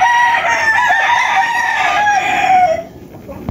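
A pumpkin sweater gamefowl rooster crows one long, loud call close by, the crow trailing off near the end with no talking over it.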